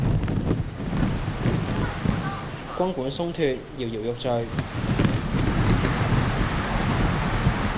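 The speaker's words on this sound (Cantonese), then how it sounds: "而紅磡碼頭同樣橫風橫雨。" Typhoon wind and rain batter Hung Hom pier in Hong Kong under a No. 8 gale signal, making a loud, gusty roar of wind buffeting the microphone. A person talks briefly over it partway through.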